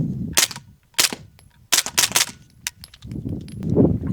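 Suppressed 9mm pistol firing 150 grain subsonic rounds through an Otter Creek Milkman suppressor: several sharp, close reports in an uneven string, the first one louder, alone without talk.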